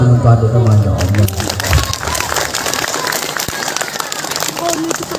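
At an Isra' Mi'raj religious gathering, a voice briefly speaks, then a loud crowd bursts into sustained clapping for the youth performers, dense and continuous to the end.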